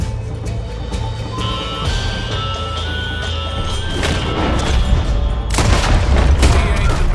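Revolver shots in a Red Dead Redemption 2 duel, heavy booming cracks that punch through a dense bed of ambient game sound and music, with the loudest blasts landing near the end.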